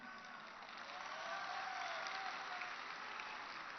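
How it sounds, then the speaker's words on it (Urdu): An audience applauds during a speech at a large public event in Lahore, a dense, even sustained clapping that carries steadily throughout, heard somewhat distant with no distinct voices. "ایس پی صاحب آپ کو تالی مار رہے سب لوگ, لاہور کے لوگ"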